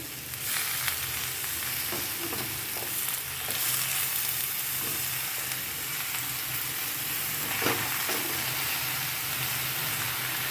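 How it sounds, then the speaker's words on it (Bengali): Spinach going into a pan of frying vegetables, a continuous loud sizzle with scattered crackles and stirring scrapes throughout, no voices. "এবারে দিয়ে দিচ্ছি কেটে ধুয়ে রাখা শীষ পালক।"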